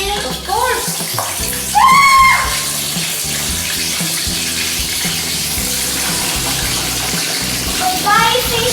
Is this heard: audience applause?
no